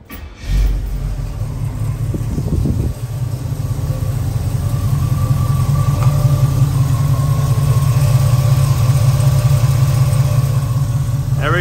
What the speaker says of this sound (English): Let's do a crank up just to do a fuel leak check.